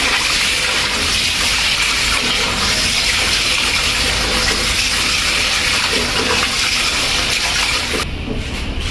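Tap water runs steadily into a bowl during the second wash of white rice for a barbecued chicken meal, a continuous loud gushing splash that keeps going for nearly nine seconds, with no talk over it.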